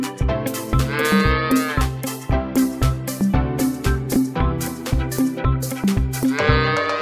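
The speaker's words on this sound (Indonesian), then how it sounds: "Wow, ini sapi teman-teman." Low, drawn-out mooing over a busy rhythmic music bed, with repeated beats and no talking.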